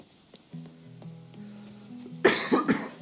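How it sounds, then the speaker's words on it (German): Several harsh coughs burst out near the end, loud and close, following soft sustained tonal background music from the Coral Island farming game. "Jetzt kriegt der Husten wieder so ein bisschen rein."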